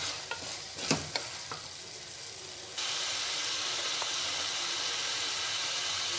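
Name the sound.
stirring potato kurma masala frying in pan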